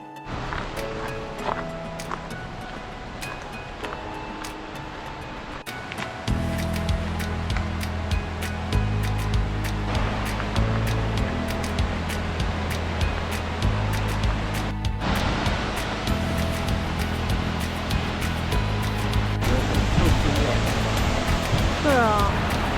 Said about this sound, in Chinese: 我们现在来这个瀑布叫 Wakina Falls